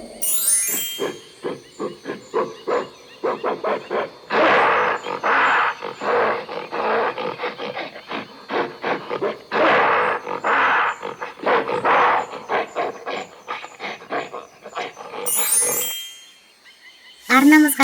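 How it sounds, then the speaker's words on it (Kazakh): A gorilla roars and grunts in a long series of loud, rough bursts, close and continuous, with brief quieter gaps and a short high jingle near the end. "горилла."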